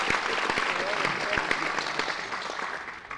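A squash crowd at the 2003 Hurghada International or Qatar Classic applauds a rally in a steady burst of clapping, with sharp racket-ball knocks ringing through the applause.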